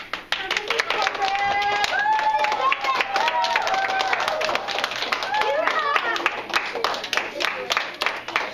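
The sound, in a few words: children clapping and cheering for a teacher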